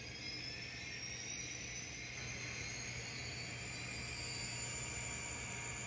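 A steady, droning N scale model turbine locomotive engine sound with a low hum and high whistling tones, continuous and fairly close, with no talking.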